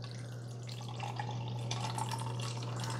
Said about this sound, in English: let's pour ourselves some coffee